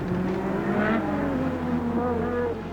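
Formula 1 race cars with Piquet overtaking Senna, a loud, sustained high engine whine whose pitch slides and shifts steadily throughout, with no pause in the roar.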